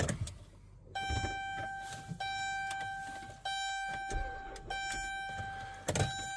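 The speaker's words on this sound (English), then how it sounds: "So I'm gonna start the vehicle." A 2014 Chrysler Town & Country with a low battery fails to start, giving a steady electrical chime and whine with repeated dull clicks and thunks from the weak system, fairly close and with no talk.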